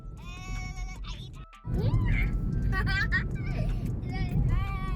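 Goats bleating near a beach on a trip in Ilocos, several wavering calls in quick succession over loud surf and wind, with people talking at times.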